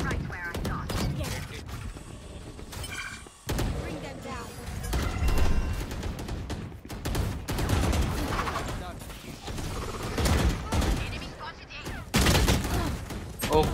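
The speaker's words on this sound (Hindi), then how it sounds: "गोली चला रहा हूं" Rapid bursts of automatic gunfire and shots in Valorant, dense and loud throughout, with people talking over the shooting.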